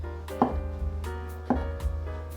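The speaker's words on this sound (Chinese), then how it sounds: "把香菇切片" A knife slices a fresh shiitake mushroom on a cutting board, two crisp cuts about a second apart, each a soft knock followed by a lighter tap, close and clear.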